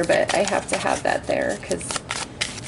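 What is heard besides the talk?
shuffling tarot cards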